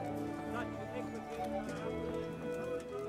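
Horse hooves clip-clop steadily in the medieval video game Kingdom Come: Deliverance, a moderate galloping rhythm under continuous talk and background game music.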